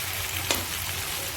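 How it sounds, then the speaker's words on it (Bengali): Onions sizzle steadily as they sauté in a hot pan for a mutton curry, with a loud, even frying hiss and a single brief stirring clink partway through. "এপাশে আমি পেঁয়াজটা কষাচ্ছি।"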